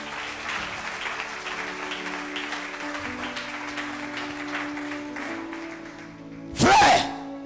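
A church congregation at a Friday miracles and prophecy service bursts into sustained applause and cheering, a dense, lively clapping that runs for several seconds and fades out before a loud, sharp burst near the end.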